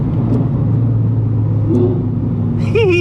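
Lamborghini Huracán engine rumbling steadily on a highway, with a brief rising rev at the end as it downshifts, loud and close from inside the car.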